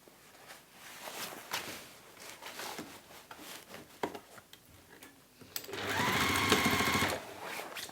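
A sewing machine stitches a hanging shoe bag, with scattered ticks and handling noises first and then a loud, steady run of rapid stitching for about two seconds near the end.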